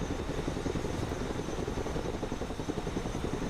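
A Chinook helicopter in the Broken Arrow modern warfare game heavy-lifting a tank, its rotors a steady, dense low thrumming drone that holds without a break.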